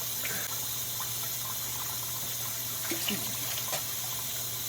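Tap water runs into a pot for lentil soup, a steady gushing fill lasting several seconds over a low background hum, with no speech.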